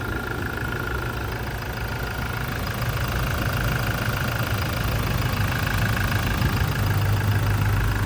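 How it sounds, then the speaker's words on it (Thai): A 2021 Toyota Revo Rocco 2.8 automatic 4WD pickup idles steadily, its engine giving a continuous, even low rumble with a faint mechanical clatter close by, with no talking. "เสียงเครื่องครับ"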